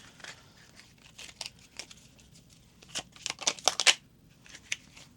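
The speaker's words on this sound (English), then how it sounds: "I feel like pulling one more card from this deck." A tarot card is drawn from a deck during a pick-a-card reading, giving soft papery shuffling and sliding rustles in quiet bursts, busiest near the end, with no talking.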